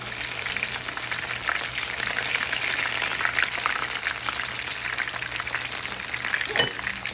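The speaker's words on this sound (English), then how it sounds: "as you can see here, the mushrooms are currently frying up" Mushrooms fry in a pan with a steady, dense sizzle and crackle, close and continuous throughout with a faint low hum beneath.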